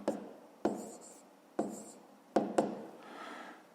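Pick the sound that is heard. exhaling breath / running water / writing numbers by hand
writing numbers by hand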